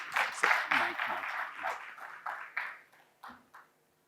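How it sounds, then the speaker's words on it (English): A conference audience claps to welcome Mr. Nagesh as he comes on stage to speak on corporate training. The applause is fairly close, dense at first, then thins into scattered claps and dies away within about four seconds. "We have a round of applause to Mr."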